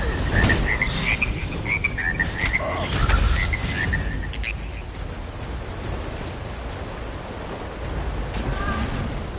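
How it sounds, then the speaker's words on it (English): Frogs croak in a video game, with rhythmic chirping croaks over a washing water-like ambience, fairly loud at first and then settling into a steady background bed. "My beautiful frogs! They've come home! Such beautiful music!"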